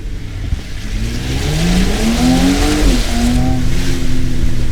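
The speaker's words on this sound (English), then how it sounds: "Do we dare doing an exhaust test in this?" A 2024 Porsche Cayenne S E-Hybrid's exhaust revs up loudly nearby in winter, its pitch climbing steadily, dipping briefly, then holding at a higher drone.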